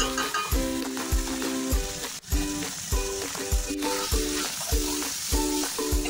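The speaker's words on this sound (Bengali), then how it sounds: "এবার ভালো করে মশলাটা কষিয়ে নেব।" Potatoes, salt, turmeric, chili and cumin powder sizzle in mustard oil in a pan for a fish curry. A steady frying hiss with stirring runs under louder rhythmic background music.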